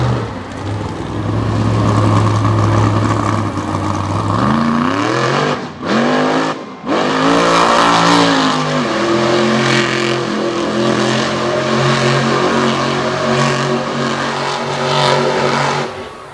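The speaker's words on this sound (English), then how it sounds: "puts that Richard Midget horsepower into that ramp and flies the big 96 Ford" A big 1996 Ford monster truck revs hard at a Jennerstown event, with a loud sustained engine roar. Pitch sweeps up and down and there is a sudden drop near six seconds, around the ramp launch. It then roars on with shifting revs.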